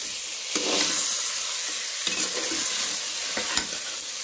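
Mutton curry with large potato chunks being slowly stirred and fried in a pan, with a constant bright sizzle broken by a few distinct scraping stirs, with no voices.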